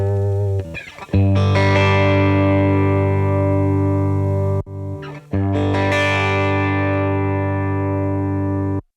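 A heavily gained electric guitar through an M-Vave Blackbox with an impulse response loaded, loud sustained distorted chords ringing out, cut off briefly mid-way and then struck again.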